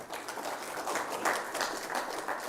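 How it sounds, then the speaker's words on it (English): Audience applause at a cybersecurity conference in Kenya: steady, dense clapping from a crowd, fairly close and even in level through the short stretch. "Let's clap again"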